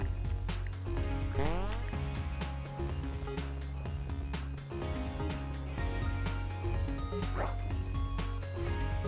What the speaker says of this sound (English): A dog approaches